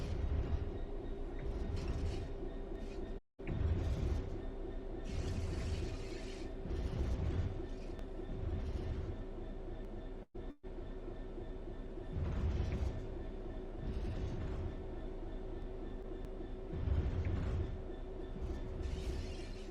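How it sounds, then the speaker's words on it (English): A locomotive in a train simulator game coasts on level ground with the throttle closed, giving a steady low rumble and hum with faint periodic rail clatter, continuous and fairly quiet, broken by two brief dropouts. "The train will then coast on level ground, and the train will only slow down very gradually."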